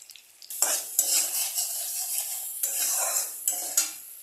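Onions softening in a pan with oil for a Bengali katla fish curry, a soft sizzle broken by repeated scrapes and clinks of a spatula stirring against the metal, close up and without talk.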